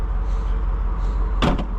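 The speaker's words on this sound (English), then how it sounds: "That's a heavy door." Heavy door of a 2024 Jeep Wrangler Rubicon 392 shutting with a single solid thump near the end, over a steady low rumble of background engine or cabin noise.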